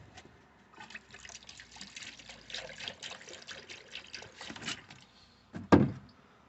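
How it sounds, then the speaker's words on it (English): Coolant pours and trickles into a car's coolant reservoir, a steady liquid splash and dribble running for several seconds, ending in a brief louder gush near the end. "fill up some more coolant"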